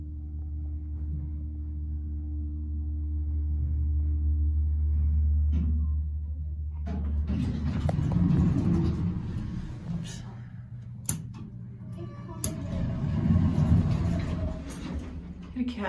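An old elevator motor at the Greendale YMCA in Worcester, MA, hums with a low steady drone, then gives way to heavier rumbling and clattering as the car moves, with occasional knocks.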